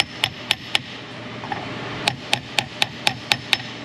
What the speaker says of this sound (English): Sometimes bigger hammers are hard to get going.